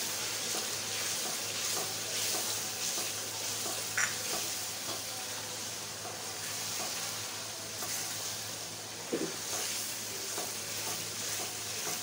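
Mutton and tender potatoes fry in a pot as biryani masala is stirred in for mutton yakhni biryani, giving a steady close sizzle with soft scraping stir strokes and a couple of sharp clicks of the spoon against the pan.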